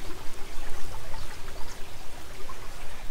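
A small brook fed by pumped water from an open-cast mine runs beside an old tree in a garden, a steady close trickling and burbling with no talk.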